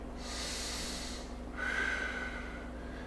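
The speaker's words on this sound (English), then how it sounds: "I'm breathing through it." Heavy, hissing breaths taken during a held yoga pose in a restorative yin practice, two long audible exhalations close to the microphone with a steady low hum beneath.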